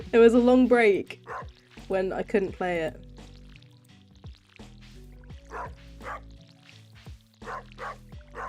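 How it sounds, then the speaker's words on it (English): A dog barks in repeated short bow-wows in the background, its volume turned down slightly, while a person talks over it throughout. "I'm assuming you guys can hear the barking."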